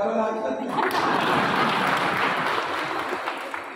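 A crowd at a bar council gathering in Pune applauds, a dense continuous clatter of many hands that stays strong throughout, with voices mixed in.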